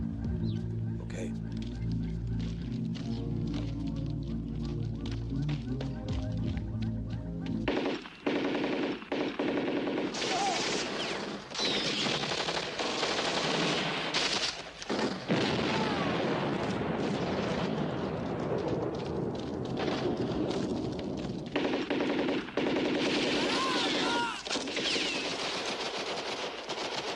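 Sustained automatic gunfire rattles in rapid bursts through an action-film firefight, loud and dense for the first several seconds, then continuing as sporadic shots and blasts under shouted dialogue.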